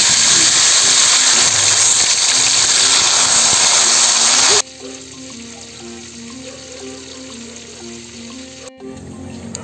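Tilapia is lowered slowly into hot oil for frying. A loud, dense sizzling hiss fills the first half, then drops abruptly to a quieter steady crackle with a faint low hum underneath.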